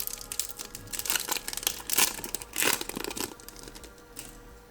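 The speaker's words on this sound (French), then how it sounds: "on va ouvrir l'autre pack avant" A foil Yu-Gi-Oh booster pack torn open by hand, with irregular bursts of close crinkling and tearing wrapper noise over several seconds, quiet and without talk.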